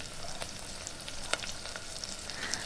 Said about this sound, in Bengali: তিনটে তিনটে করেই ভেজে নেব এভাবে উল্টে পাল্টে এবারে এটাকে একটু বেশ দোকানের মতোই ব্রাউন করে ভেজে নিতে হবে